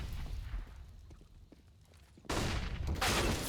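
Gunfire in a CS:GO match during an ESL UK Premiership semi-final, faint scattered shots and footsteps giving way to a sudden loud burst of rapid fire that runs to the end.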